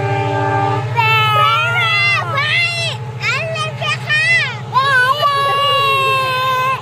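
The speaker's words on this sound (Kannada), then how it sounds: "ಟ್ರೈನು ಹೋಗ್ತಾ ಐತೆ." A train passing nearby, a loud steady low rumble and wagon clatter throughout, while children's voices chatter and call over it; no clear horn blast stands out.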